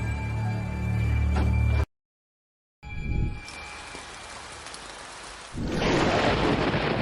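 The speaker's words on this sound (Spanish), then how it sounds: "Llueve." Heavy rain pours steadily with deep thunder rumbling beneath, breaking off into a short silence before the downpour returns and swells to a loud, hissing roar.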